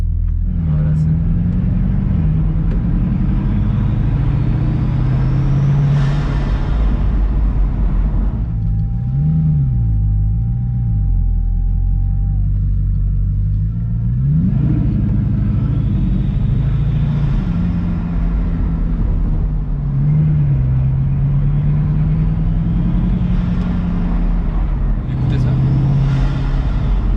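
Bugatti Chiron driven on the road, its engine a loud, steady low rumble with several rises and falls in revs as it accelerates, heard from inside the car.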